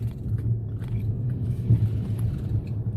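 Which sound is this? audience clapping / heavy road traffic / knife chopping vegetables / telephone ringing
heavy road traffic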